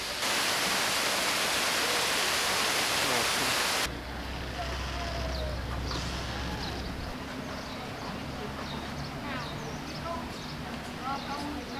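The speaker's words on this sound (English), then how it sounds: "And right across from me is also a little waterfall." A small waterfall beside a temple in Chiang Rai, Thailand, rushes steadily, loud and close at first, then softer and more distant, with faint background voices and scattered ambient sounds.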